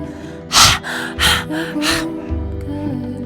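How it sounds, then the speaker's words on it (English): Lion's breath in a Kundalini yoga class: four forceful, rapid exhalations through an open mouth with the tongue out, loud and close, followed by softer breathing. "Called Singa Pranayama, or lion's breath."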